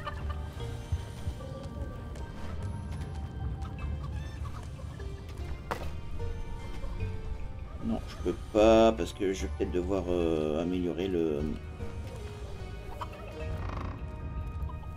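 Turkeys gobble in the dungeon management game Dungeons 4, with a couple of warbling gobbles midway over a low game ambience, while someone talks through much of it.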